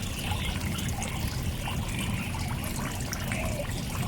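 Water draining from a garden pond filter, a steady broadband trickle and gurgle that runs continuously at even loudness from start to end, with no voices.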